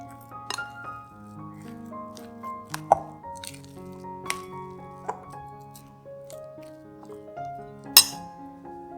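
Chickpea mash is stirred in a bowl for a vegan burger mix, with soft squishing and repeated clinks of a utensil against the bowl over quiet background music.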